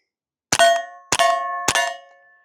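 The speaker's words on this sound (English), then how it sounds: "Hitting the steel is definitely loud." Three suppressed .22LR 45-grain subsonic rounds strike a steel target, each a loud ringing clang that hangs and sustains before the next, evenly spaced about half a second apart.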